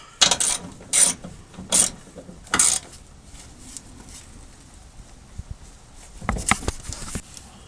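A hand ratchet on a 14mm socket tightens the front fuel tank strap of a 2010 Toyota Tundra in four crisp clicking bursts, followed by quieter rustling and a final scrape of metal parts.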